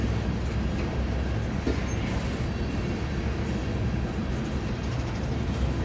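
A Montana Rail Link freight train with several locomotives rolls past, a steady, moderately faint rumble of wheels and cars that carries on evenly from start to finish.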